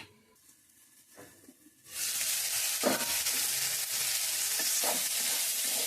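Slices of bitter gourd fry in hot oil for a South Indian stir-fry, a loud, continuous sizzle and hiss that starts abruptly and holds steady, with a couple of soft stirring knocks and no talking.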